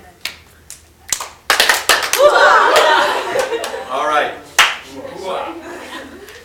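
A small group does a handshake, clap and hoo-ah together: a few sharp hand claps and slaps ring out close by, mixed with a shout, chuckles and laughter, and a voice speaks briefly near the end.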